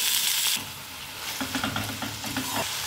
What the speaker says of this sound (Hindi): अब मैं इसमें ये लहसुन प्याज और ये जो मिर्च है और टमाटर को इन सबको भी इसमें मैं फ्राई कर लूँगी